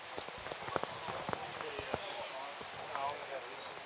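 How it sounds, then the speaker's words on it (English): Rain pattering on a baseball field during a second-grade game, a steady wash of drops with scattered sharper taps from big drops, heard up close under cover without talk. "But the rain is coming down harder."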